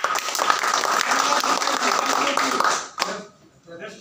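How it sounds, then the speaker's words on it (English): Classroom audience clapping and cheering for a student drama team, a dense burst of applause that cuts off abruptly near the end, leaving brief quiet voices. "A big cheer to the team Jaljeevan."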